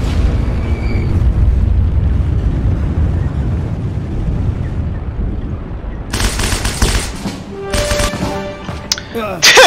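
A low rumble builds, then sharp bursts of gunfire in the video game Heroes & Generals crack out near the end, loud and clustered.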